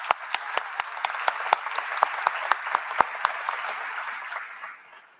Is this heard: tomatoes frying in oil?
no